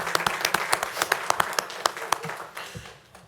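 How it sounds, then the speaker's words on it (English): Applause at a city council meeting in Fayetteville, scattered individual claps that are moderately close, with a few people clapping in an uneven rhythm that tapers off toward the end. "Go ahead and give them a round of applause."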